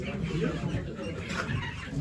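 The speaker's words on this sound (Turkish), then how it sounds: "İki tavuk, dört horoz." Chickens and roosters cluck amid a noisy outdoor din at a poultry auction in Ankara, with people talking and murmuring throughout.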